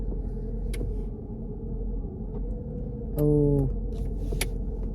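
A brief electric window motor whirs for about half a second inside a 1984 Mercedes 380 SE, rising over the car's steady low rumble.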